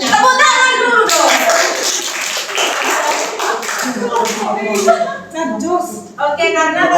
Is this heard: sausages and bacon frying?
no